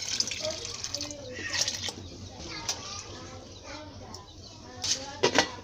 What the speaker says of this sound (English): Since the water is not enough, you need to add some water.